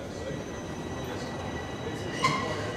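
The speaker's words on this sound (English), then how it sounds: "the operator will just press a button, setting in motion a train that then drives itself." A Toronto TTC subway train rolls along with a steady low rumble and rail noise, a faint tonal whine and a brief squeal toward the end, heard alone without talk.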